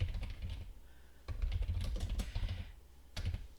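Fingers type on a computer keyboard in quick, uneven bursts of close clicks, separated by two brief pauses, with no talking.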